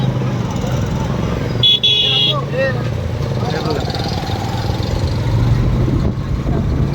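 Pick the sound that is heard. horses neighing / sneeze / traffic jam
traffic jam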